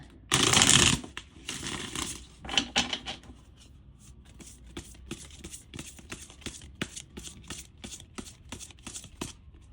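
Sacred geometry oracle cards are shuffled up close, starting with a loud burst of riffling, then a run of softer, evenly spaced taps and flicks as the deck is handled alone.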